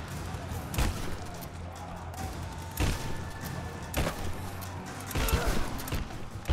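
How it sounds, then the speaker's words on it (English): Shotgun blasts in the Rise of the Tomb Raider video game, four sharp booming shots spaced about a second apart over a low rumbling game background. "someone has a shotgun and they're shooting it at me"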